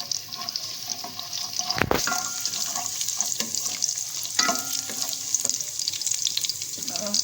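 Garlic and cumin sizzle steadily in a pan while a spoon scrapes and stirs, with a sharp clatter near the start and continuous frying hiss throughout.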